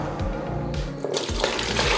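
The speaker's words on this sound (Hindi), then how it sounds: "भाई साहब इसमें पानी डाल दें पहले हम" Water gushes steadily and loudly into the tub of a portable mini washing machine, a continuous splashing pour with no talk.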